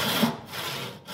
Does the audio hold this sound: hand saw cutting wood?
yes